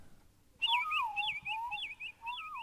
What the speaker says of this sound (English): Could be an owl.